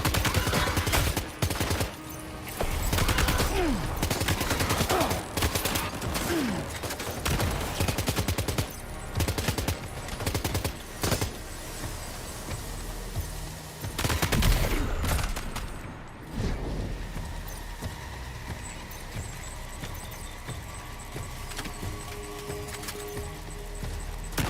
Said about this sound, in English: Warrior shotgun